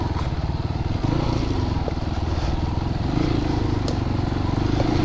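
A Christini all-wheel-drive 250cc big wheel motorcycle climbs a hill, its engine close and loud with a steady, pulsing chug under load for the whole stretch, with no talk over it.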